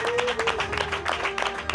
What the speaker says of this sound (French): Vous pouvez déjà vous applaudir.